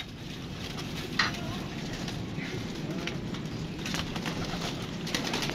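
Pigeons coo softly amid a dense rustling, pattering background, with low murmuring coos and a few faint calls nearby.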